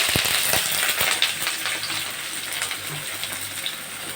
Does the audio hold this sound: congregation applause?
no